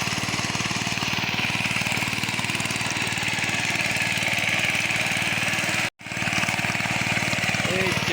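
A tractor engine runs in a field with a loud, steady, unbroken chug that goes on throughout, cutting out only for a moment partway through.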